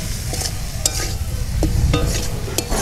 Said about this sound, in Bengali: আঁচটাকে মিডিয়ামে রেখে এটাকে এইভাবে নেড়ে চেড়ে কষা কষিয়ে নিতে হবে